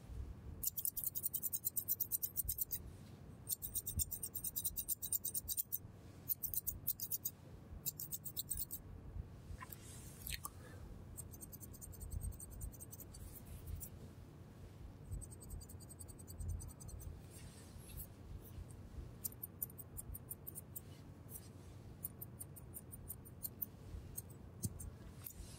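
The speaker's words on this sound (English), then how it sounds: "Now I'm going to also cut your eyelashed." Close, crisp scissor snips in a doctor roleplay, a run of quick clicking cuts near the ears that comes and goes over a soft low rustle, with no talking.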